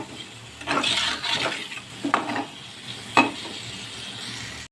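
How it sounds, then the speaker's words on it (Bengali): Spices, salt, turmeric and vegetables with mustard paste sautéing in a pan, with a steady sizzle broken by several scraping stirs of a utensil against the pan, close by and with no talking. "ভালো করে একটু কষিয়ে নেব মশলাগুলো, লবণ হলুদ সবজিগুলো আর কি।"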